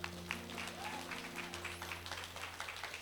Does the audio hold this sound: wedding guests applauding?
yes